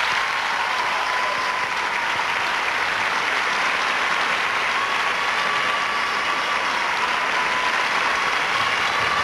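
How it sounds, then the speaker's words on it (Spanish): A large audience applauds at the Nuestra Belleza Mexico 2006 beauty pageant coronation, a dense, loud, steady wash of clapping that carries on without pause. "Un aplauso para ellos, por favor."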